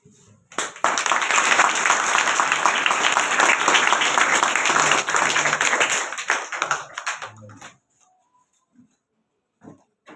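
Applause at a ceremony honouring women with shawls, a dense burst of clapping from a crowd that starts abruptly, holds steady for several seconds, then thins out into scattered claps and quiet.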